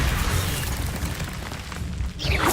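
A Confringo fire spell explosion in Hogwarts Legacy, a loud, sustained rumbling boom that fills the sound and ends in a brief whooshing burst.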